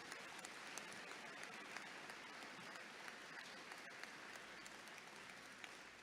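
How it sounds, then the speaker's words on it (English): Sustained applause from a large commencement audience fills the whole stretch, a dense, steady wash of clapping at a fairly quiet, distant level with no speech over it. "Let's give him another round of applause."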